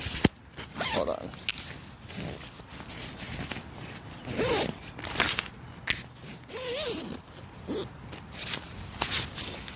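The door flap zipper of an Ozark Trail one-person backpacking tent rasps open and closed in several short, scratchy pulls, close and fairly quiet, with a voice talking faintly in between.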